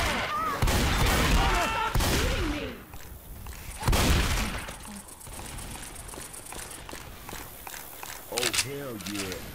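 Bursts of gunfire from a multiplayer shooter game come in short volleys and single cracks amid in-game effects, while players talk excitedly over the action.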